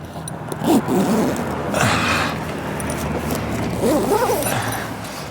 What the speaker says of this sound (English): That's the hardest part right there. The zipper at the corner.